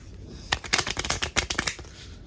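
A deck of cards is riffle-shuffled close up, a quick burst of crisp fluttering clicks lasting about a second and a half after a brief pause, with no talking.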